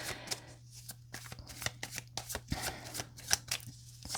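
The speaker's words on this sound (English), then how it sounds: "I'll pull cards from tarot and then some oracle cards." Tarot cards shuffled close by, a quick run of sharp slaps and riffles with a low steady hum behind them.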